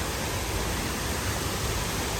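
Flat Lick Falls, a waterfall in Jackson County, Kentucky, heard from creek level as a steady, even rush of falling water that fills the whole short stretch with no other sounds.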